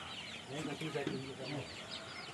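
Free-range chickens cluck softly in a faint, continuous chorus, with a voice speaking over them.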